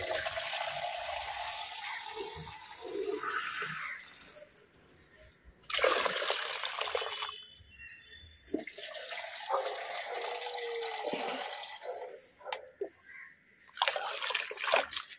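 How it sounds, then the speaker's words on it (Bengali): Water is poured in short bursts into a container to dilute plant fertilizer for chrysanthemums, giving intermittent splashing and trickling, moderately close, with pauses between pours. "যার জন্য এর সাথে অল্প কিছু জল মেশাবো"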